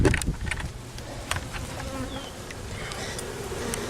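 Bees buzz steadily and close by inside a water valve box, a dense droning hum with a few louder swells as individual insects pass near.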